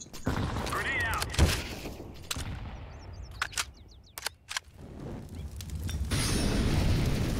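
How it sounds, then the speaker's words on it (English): Grenade blast in a first-person shooter set around apartments, heard as a few sharp booms and gunfire-like bangs amid game noise, with players talking over it. "Grenade out!"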